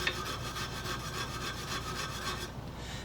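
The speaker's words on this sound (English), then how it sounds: "I take this little wire brush over the nooks and crannies" A small cheap wire brush scrubs the nooks and crannies of a metal rebate plane, making quiet, quick rhythmic scratching strokes close by that fade out toward the end.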